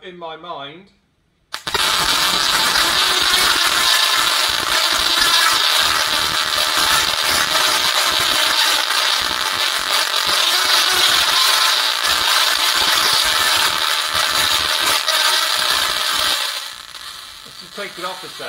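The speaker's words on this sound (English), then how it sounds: "you can hear the music from the oscillation, from the crackle, from the discharge, from the spark" Musical Tesla coil playing a song through its spark discharge: after a short pause, a loud, sustained rasping buzz with rhythmic pulses runs for about fifteen seconds, then fades near the end as a voice begins.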